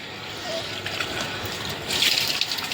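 Water gushes steadily from a supply tap in a village home, a close rushing flow that swells louder near the end before stopping abruptly.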